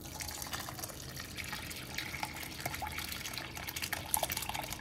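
Curdled milk being poured into cheesecloth to drain the whey gives a faint, steady wash of liquid pouring and splashing, continuous and close, with no voices.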